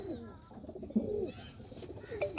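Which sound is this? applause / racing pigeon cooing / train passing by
racing pigeon cooing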